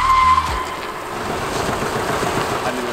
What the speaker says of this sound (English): That thing spins the tires.